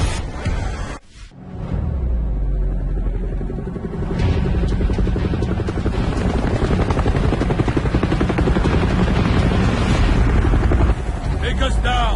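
Steady, loud rotor drone of a helicopter in the video game Gears of War fills the scene, with a brief whoosh near the start and continuous mechanical roar throughout.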